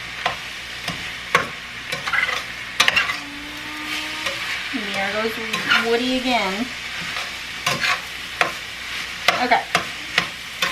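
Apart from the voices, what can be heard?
garlic sizzling in a pan for sloppy joes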